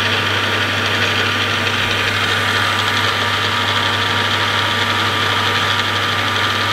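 Car engine idling steadily to warm oil treated with Rocoil XRP additive, a constant loud hum with a faint knocking texture, heard alone for several seconds.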